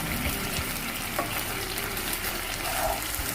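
Vinegar and soya sauce are stirred in a hot pan during cheese chilli pocket cooking, with a dense continuous sizzle and faint intermittent scraping close by, and no talking.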